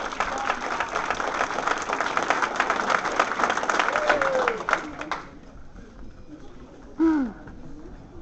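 Audience applause follows the announcement of karate award placings, a dense burst of clapping that fills the room for about five seconds before cutting off, followed by a quieter hall with a brief sharp sound near the end.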